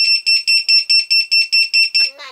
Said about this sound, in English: So if I put it in beeper mode,